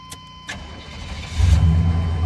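A truck with a newly fixed exhaust cranks and catches, starter clicks giving way to a deep rumbling idle that swells loud and steady, up close with no talking.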